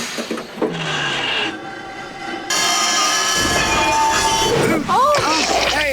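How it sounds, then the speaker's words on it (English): A cartoon train in a Postman Pat episode rumbles and clatters with a horn-like tone while excited voices shout over it, the sound swelling louder partway through. "stop the train!"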